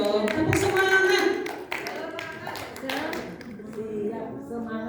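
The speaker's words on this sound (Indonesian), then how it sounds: "kasih tepuk semangat dulu dong" An audience at an evaluation meeting claps in a rhythmic group pattern, sharp distinct claps in short bursts mixed with voices, then fading to lighter sounds.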